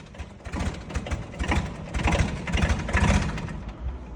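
A car engine, a vehicle shipped from Japan, is being started and revved, a rough, fluctuating mid-pitched roar that swells and dips close by in an outdoor setting.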